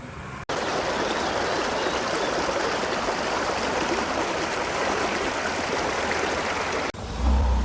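Parit Falls, a small waterfall in the Cameron Highlands, pours in a steady, loud, rushing roar heard up close, lasting several seconds and cutting in and out abruptly at each end, with no voices.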